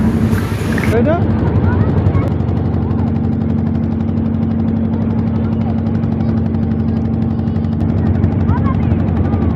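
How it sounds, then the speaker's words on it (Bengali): A loud, steady low engine drone with a rhythmic chugging beat runs throughout, a trawler boat motor heard up close on board on a river. "আমাদের ট্রলারটি এগিয়ে যাচ্ছে।"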